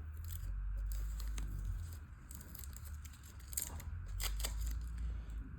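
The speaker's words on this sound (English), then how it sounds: "as I'm taking the tape off of it" Masking tape is peeled from a freshly airbrushed custom-painted car part in close, crackling tearing strips, with short bursts over a steady low background rumble.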